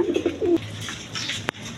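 Tulip pigeons coo close by, a few soft throaty low coos in quick succession, followed by a quieter pause and a brief sharp click.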